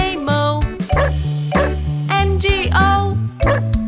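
A cartoon dog barks repeatedly over the bouncy melody of the children's song about the farmer's dog Bingo; the yips ride on top of steady bass notes and bright synth tones, loud and up front.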